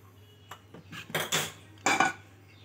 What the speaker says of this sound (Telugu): ప్యాన్ పెట్టి